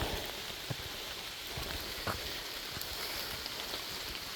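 Steady rain patters on the forest floor along a wet, slippery hillside trail at Table Rock State Park, a dense continuous hiss with scattered close drops ticking through it and no voices.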